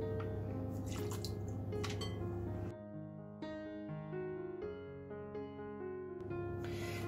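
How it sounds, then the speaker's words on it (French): Water poured into a bowl of egg yolks and granulated sugar, a run of dripping, splashing liquid sounds up close, with no one speaking. "Et je vais ajouter aussi les 25 g d'eau."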